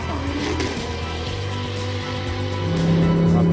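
A Lamborghini LP570-4 Superleggera drives on the road with its engine humming in a steady, close drone. The note rises slightly toward the end.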